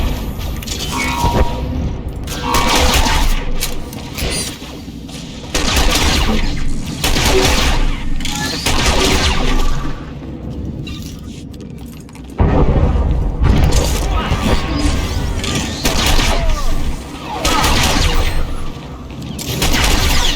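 Blaster fire and booming explosions in a Star Wars: The Old Republic battle, a dense, loud, continuous barrage with heavy thuds and crashes that drops off briefly near the middle before surging back.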